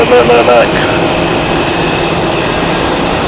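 A jet airliner departing Zurich Airport on the Shanghai flight gives a steady, broad engine roar from a distance, with a brief voice at the very start.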